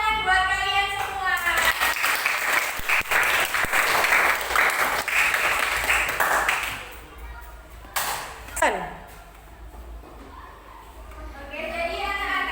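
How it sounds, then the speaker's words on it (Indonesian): A class of schoolchildren applauds together, a dense burst of clapping that swells and holds for several seconds before fading, followed by scattered voices and a few stray claps. "Kasih tepuk tangan buat kalian semua."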